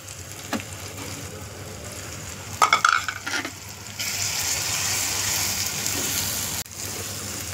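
Spices being sautéed with softened onions in a pan for a Maharashtrian prawn and pea masala, with a few stirring scrapes early, then a louder, steady hissing sizzle that carries on to the end.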